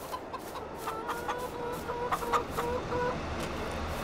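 Chickens cluck in Farming Simulator 22 on a farm where cows and hens share a pen, with short, repeated calls over a steady ambient game background and no talk.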